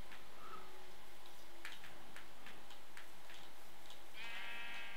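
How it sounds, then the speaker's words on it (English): Sheep bleat in a modded Minecraft world, a wavering bleat near the end over steady game ambience with faint ticking clicks scattered throughout. "Sheep or ram"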